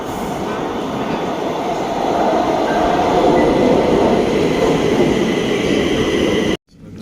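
A Stockholm subway train rides along in winter with a loud, steady roar of wheels and rumble that holds at full level for several seconds, then cuts off abruptly.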